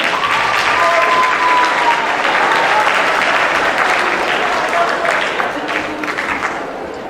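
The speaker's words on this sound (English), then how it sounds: "Please give a warm round of applause to our band and choir." Warm, loud applause for a school band and choir at a Black History Month presentation, a full crowd clapping steadily and evenly, easing slightly toward the end.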